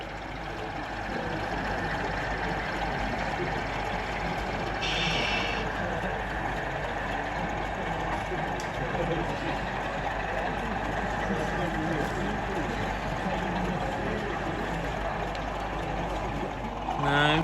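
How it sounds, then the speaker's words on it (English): A Class 25 diesel locomotive on a model railway layout pulls away after shunting, a steady rumbling engine drone held for the whole stretch under a busy murmur of show-hall crowd noise. "A short while later, and finishing its shunt, the 25 departs the layout."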